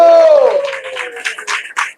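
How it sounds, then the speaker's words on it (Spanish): A church congregation at a Sunday service in Kissimmee breaking into applause, a few clustered bursts of clapping after a sustained tone fades out, fairly close and moderately loud. "Dale un aplauso fuerte al Señor."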